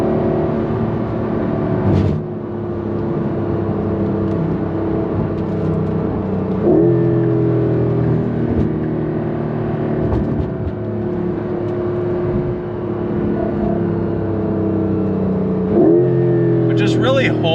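A 2025 Porsche 911 Carrera GTS with a PDK dual-clutch gearbox drives with a steady engine drone, a few quick shift blips and changes in engine note, heard from inside the car.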